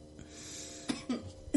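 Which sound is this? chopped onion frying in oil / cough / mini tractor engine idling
cough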